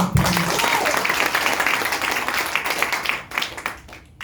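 Audience applause fills an Indonesian gathering, a dense, steady wash of many hands clapping at close range that thins slightly near the end, with a voice talking over it.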